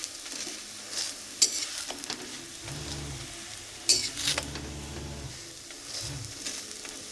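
Patishapta frying in mustard oil in a pan, a soft continuous sizzle with occasional scrapes and clinks of a spatula against the pan, close and fairly quiet with some low background noise.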